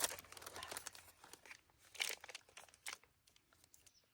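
A lunch package is torn open on a long-distance trail hike, giving a faint stretch of crinkling and tearing plastic that comes in irregular bursts over a few seconds with no talk.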